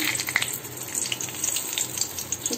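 Bay leaf and whole spices sizzle in hot oil in a kadai on a gas stove, a steady close crackle with bright popping spatters throughout and no talk.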